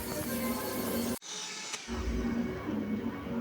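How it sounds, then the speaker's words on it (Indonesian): An electric mixer whirs steadily while beating brownie cake batter until it turns thick and pale. The motor cuts out briefly partway through, then starts up again at close range. "Kita mixer ini sampai mengental putih dan berjejak."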